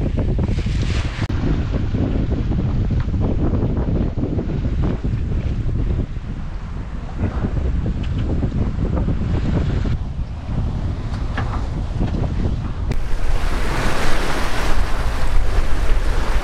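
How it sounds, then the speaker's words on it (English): Steady, loud gusty wind buffets the microphone while water rushes past an aluminum sailing monohull, the gusts swelling and easing, with a stronger blast near the end. "We're getting quite gusty wind, so it kind of drops and then gusts and then drops and then gusts."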